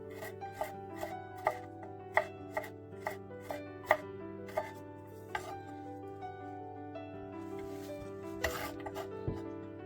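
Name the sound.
knife chopping garlic cloves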